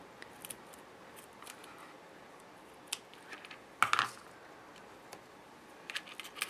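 Scissors snip off extra duct tape while a pop tab bracelet is being made, giving a few faint, sparse clicks and one sharper cut in a quiet room.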